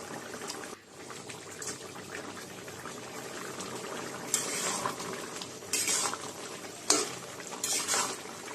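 Vegetarian jackfruit curry being stirred in a pan over medium heat, with a steady bubbling sizzle broken by several sharp scrapes and clinks of the spoon against the pan.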